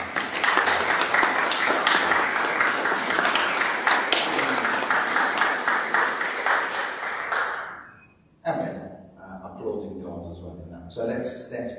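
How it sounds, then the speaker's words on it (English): A church congregation at a parish Eucharist in St Leonard's Church, Lexden, applauds a baptism and confirmations with sustained clapping for about eight seconds, then it fades and a single voice begins speaking. "We're going to give you a round of applause"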